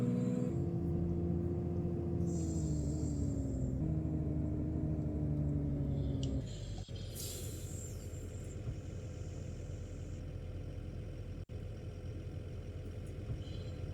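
Simulated bus in a Roblox driving game cruising at modest speed, a steady mid-pitched engine drone with shifting tones, then a bright whoosh near seven seconds and a brief click before the hum settles lower.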